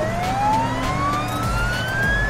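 A cartoon fire truck siren from a children's emergency-vehicle show wails steadily and slowly rises in pitch, loud and close, over a low engine rumble.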